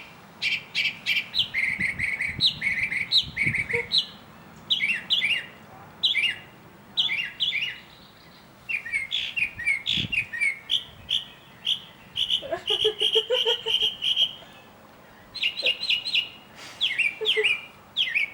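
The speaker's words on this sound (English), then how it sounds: "bird can make a lot of different noises." A bird makes a varied stream of chirps, squawks and whistled calls in rapid bursts, loud and close, with short gaps between phrases and a faint voice in the background.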